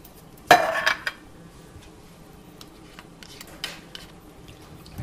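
Pineapple chunks being mixed into a cherry fruit salad in a bowl: one loud clink of a utensil against the dish, then soft, intermittent stirring and light taps.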